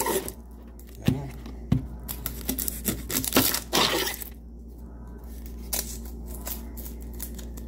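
Crackly, papery tearing and crinkling as the dry outer skin is peeled off an onion, in short bursts close by against a quiet background, fading to scattered small rustles.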